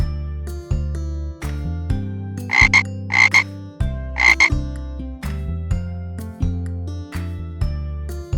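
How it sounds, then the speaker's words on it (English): A frog croaks in loud, close, repeated pulses with a steady rhythm, with a few brighter bursts in the middle of the run. "frog, frog."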